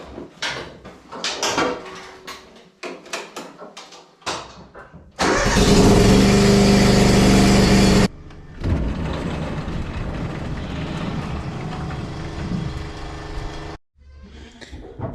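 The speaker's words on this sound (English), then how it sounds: "So I'll start up the skid steer." A skid steer on a goat farm cranks over with a loud burst, then catches and settles into a steady, close diesel rumble that runs several seconds before cutting off, with scattered clunks and knocks before it starts.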